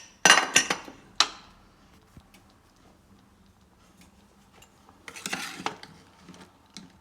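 A pressure cooker of cooked dal for spinach dal has its lid opened, with a few sharp metal clanks at the start, a lone click, then a second cluster of clattering near the end.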